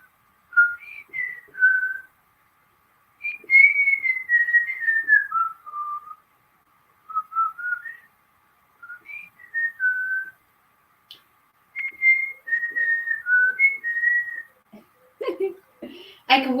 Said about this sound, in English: The whistling part is easy